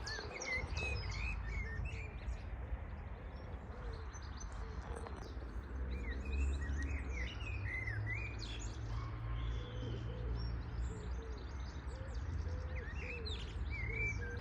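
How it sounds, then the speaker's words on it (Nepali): Many birds chirp and call steadily in a park at dusk, with bright overlapping tweets at middle distance over a constant low hum of background noise. "यो ठाउँमा चाहिँ एकदमै राम्रो चराहरू कराउने रहेछ साँझ परेपछि"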